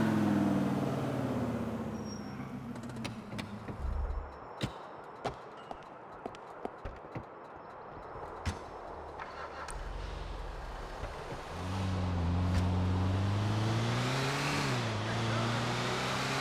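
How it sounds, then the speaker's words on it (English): A truck in Grand Theft Auto IV rumbles along with engine drone that rises and falls. There are occasional sharp knocks, and people talk over it the whole time. "All right, this is the truck."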